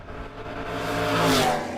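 All-Pontiac drag race car accelerating hard at an annual bracket race event, a loud, rising engine roar swelling toward a peak and easing slightly, close and without talk.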